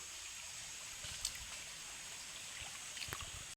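Clean water runs steadily through a hose in a quiet, uninhabited riverside spot, a soft continuous trickle and gurgle at low level with a few faint knocks.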